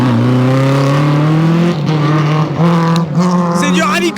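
A Porsche 911 RSR rally car screams past loudly during a rally, its engine note climbing and then dropping through gear changes as it goes by, with spectators' voices mixed in.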